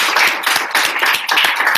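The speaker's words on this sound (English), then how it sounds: "So a big round of applause." A small group of students claps for a visiting scientist at the end of a classroom tele-visit, steady close applause that swells and dips in brief waves with no talking over it.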